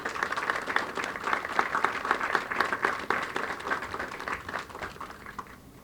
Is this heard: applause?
yes